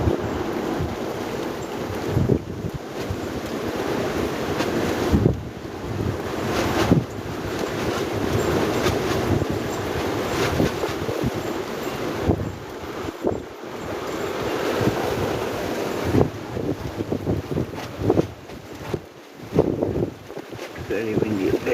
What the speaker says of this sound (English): Very windy up there, isn't it?